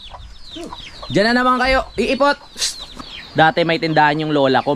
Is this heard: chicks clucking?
yes